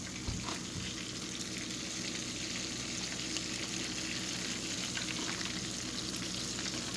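Chicken frying in 325°F grease, a dense, steady, close crackling sizzle that holds evenly for the whole stretch with no voices.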